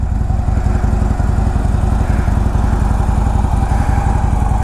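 A 2015 Harley-Davidson trike, a trimmed-down version of the Tri-Glide, rumbles loudly and steadily up close, its engine running with an even, unbroken throb throughout.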